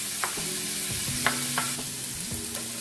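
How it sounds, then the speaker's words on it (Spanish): Tomato and onion fry in a pan with a steady sizzle, broken by a few short scrapes and clinks as a utensil stirs them. "Ya después de un ratito que estuvo friendo el jitomate y la cebolla"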